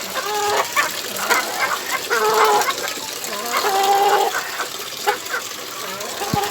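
Chickens on a small backyard farm cluck and squawk repeatedly at close range, with several overlapping calls, over a constant hiss of heavy rain.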